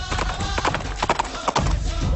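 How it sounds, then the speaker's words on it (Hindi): Hooves of a lively, playful horse clip-clop in quick irregular steps, close and fairly loud over a rough, noisy background. "अपना प्यारा घोड़ा है, थोड़ा चुलबुल ही है, शरारती है, चंचल है, लेकिन अच्छा घोड़ा है"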